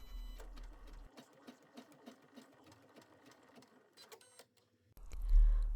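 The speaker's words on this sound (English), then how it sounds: "stitch the next design step, which is going to stitch a line at the left and the right" An embroidery machine stitches placement lines for an in-the-hoop snap card holder, with rapid rhythmic mechanical needle chatter in quick bursts, brief pauses and a louder hum at the start and end.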